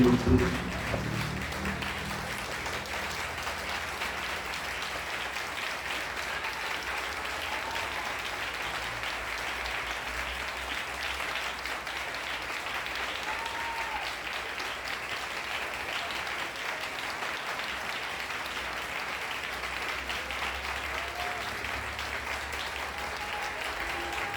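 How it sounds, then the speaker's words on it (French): Sustained applause from a church congregation during a sermon, a steady wash of many hands clapping that stays even and fairly loud for the full stretch, with a brief louder burst at the start. "Un applaudissement sur le sacrement."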